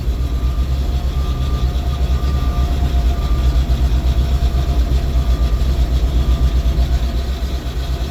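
The hydraulic hoist of a 1985 Ford F700 dump truck with a twin-cylinder dump body runs with the engine, a loud, steady low rumble and drone that stays constant throughout.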